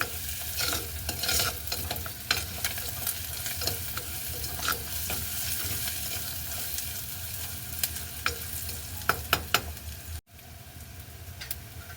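Onions sautéing with salt in a pan give a steady, close sizzle and frying hiss for the whole stretch, with repeated scrapes and stirs of a utensil and a brief cut near the end.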